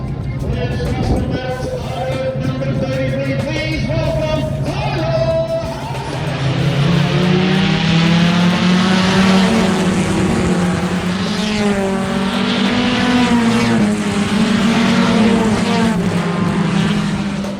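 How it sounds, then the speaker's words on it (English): Mini stock race cars roar around the Scotia Speed World track as engine notes rise and shift continuously and loudly, with a narrator talking over the racing. "The 85 of Andrew Warren pick up another Scotia Speed World win in the 50-lap feature."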